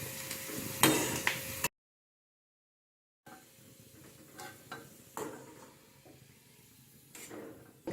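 Veldt grape pieces fry in hot oil with stirring scrapes and a faint sizzle, then a brief silence before tamarind goes into the same oil, with soft scattered clicks and stirs.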